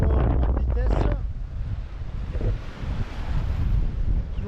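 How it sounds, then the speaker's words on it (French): Strong squall wind buffets the microphone on a sailboat at sea, with waves washing and surging around the hull in a loud, continuous roar; a voice speaks briefly at the start over the gusts. "Le vent est monté d'un coup."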